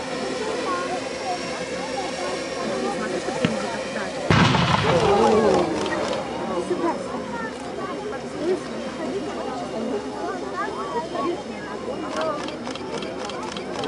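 Field cannon fires during a historical battle reenactment at the Siberian Fire festival near Novosibirsk, one sharp loud boom with a rumbling tail rising over a constant crowd murmur while a commentator talks throughout.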